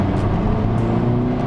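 A car with a stock intake accelerates hard in third gear from about 50, its engine and exhaust giving a loud, continuous low growl that holds steady and close.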